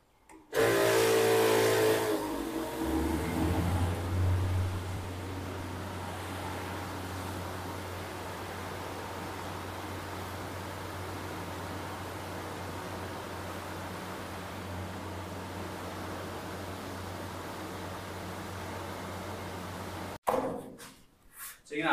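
A humidifier machine switched on in a young silkworm rearing centre gives a steady broadband whoosh with a low hum, starting with a louder burst and then holding even for about twenty seconds before cutting off.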